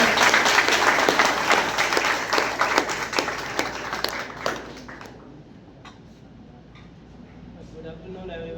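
Loud, dense audience clapping at a small coaching-class celebration, which gives way to a quieter room with a few scattered claps.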